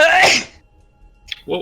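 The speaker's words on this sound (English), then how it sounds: "that was a giant sneezing." One loud, explosive human sneeze bursts out at the start during a Dungeons and Dragons tabletop session, then silence and a short exclaimed word from someone afterward.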